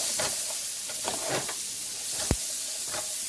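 Onions and peppers sizzling in butter in a pan, a steady close hiss with a few soft stirring scrapes and one sharp tap partway through, no talk.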